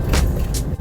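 A car driving through the streets of South Tulsa, Oklahoma, its steady low engine and road rumble filling the short stretch, with two brief airy swells of passing traffic or wind over the top.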